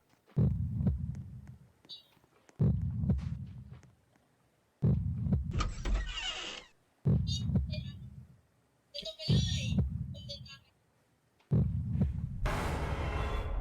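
A heavy, booming heartbeat pulses in the Roblox horror game The Mimic, each deep throb repeating roughly every two seconds, loud and close, with brief game noises and voices cutting in between beats.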